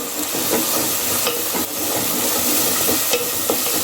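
A loud, bright sizzle of spices frying in hot oil with a little salt, with a few sharp scrapes of stirring cutting through the steady hiss.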